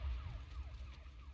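Inspector Bringer's car siren arriving in the video game Zenless Zone Zero: a faint, repeating falling wail that cycles quickly over a low engine-like rumble.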